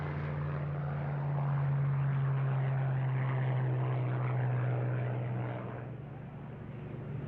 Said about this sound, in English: The Lockheed P-38 was an extraordinary airplane.